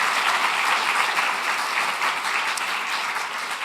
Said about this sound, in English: So maybe another applause for the panel as a whole would be appropriate at this moment